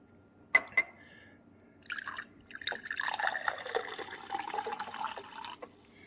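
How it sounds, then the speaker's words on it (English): Homemade almond milk is poured from a cup into a glass, starting with a couple of sharp clinks and then a steady, close trickle and splash of liquid filling the glass for several seconds. "I'm gonna just pour a little bit into this glass here."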